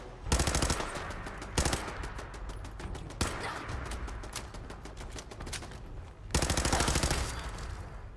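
Rapid automatic gunfire from a weapon in Fallout 4, loud bursts of dense repeated shots with short pauses, a sharp opening volley and a heavy sustained burst near the end.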